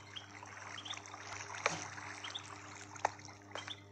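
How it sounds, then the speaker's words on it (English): Faint, steady flowing water echoing through a cave in Minecraft Pocket Edition, a soft continuous trickle with a few small splashy accents and no talk. "I can hear water."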